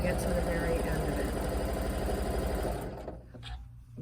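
A sewing machine stitches quilt sashing in a steady, rapid mechanical whir with a rhythmic needle patter. It runs close and loud for about three seconds and then stops, leaving faint handling sounds.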